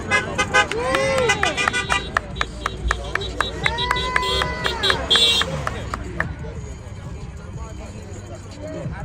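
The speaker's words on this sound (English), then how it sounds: "Honk the horn! Honk the horn!" Several short car horn toots sound amid busy street noise and people talking at a protest outside a pub, with one longer honk partway through.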